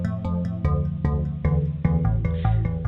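Synth bass notes with quarter-note delay on both sides repeat in a steady rhythm, each plucky attack followed by echoes that pile up and smear together into a thick, layered low end.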